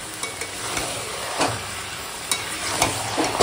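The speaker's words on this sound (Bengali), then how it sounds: "এখন মাংসটা শুধু কষাবো।" Mutton being stir-fried in a pan with turmeric, Kashmiri and hot chili powder and salt, a steady close sizzle broken by several sharp scrapes and clanks of a spatula stirring the meat.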